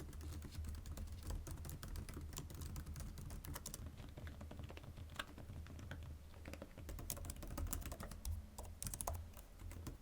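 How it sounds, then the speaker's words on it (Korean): Quiet, rapid clicking of fingers typing on a scissor-switch Apple Magic Keyboard for iPad Pro, continuous patter with brief louder keystrokes. "기존의 스마트 폴리오 키보드를 사용했을 때보다 키감이 누르는 소리가 조금 더 나요"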